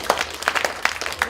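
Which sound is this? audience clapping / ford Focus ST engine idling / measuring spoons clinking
audience clapping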